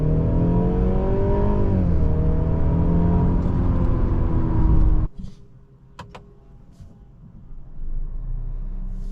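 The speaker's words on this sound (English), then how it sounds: "Do a full pedal accel." A 2023 Mercedes-Benz C300 with AMG Sport Package accelerates at full throttle, engine tone rising loudly and steadily for about five seconds before an abrupt drop to quieter cabin rumble and road noise.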